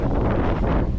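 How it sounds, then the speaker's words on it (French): Steady, loud wind buffets the microphone while cycling along a route heading southwest, a headwind and crosswind roaring without any talk. "avec le vent de face et de travers un petit peu."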